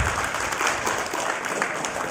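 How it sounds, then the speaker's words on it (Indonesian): Dense applause from a crowd at a meeting with the Mandalika Grand Prix Association in Lombok, a steady wash of many hands clapping at once, loud and continuous throughout. "Tepuk tangan untuk Lombok"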